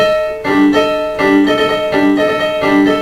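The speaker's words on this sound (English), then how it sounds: "the opening of the solo violin is basically just the open strings going" A violin sounds sustained open strings in repeated bowed strokes, rich and close, with a slightly sour, out-of-tune quality.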